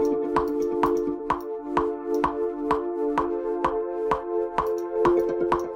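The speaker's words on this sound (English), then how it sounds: "I'm going to go into synthesizer, pad" A sustained analog-wave synthesizer pad holds a steady chord while evenly spaced drum hits tap out a regular house beat on top, playing clearly with no voices.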